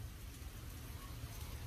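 Heavy hurricane rain pours down in a steady, dense hiss, unbroken and moderately faint, with no voices over it.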